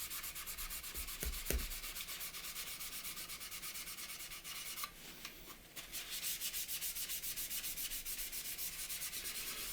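Soft, repetitive rubbing strokes as a weathered scale model is polished and blended with oil paints, a fine steady scratchy texture with a few small knocks near the start, quiet and close.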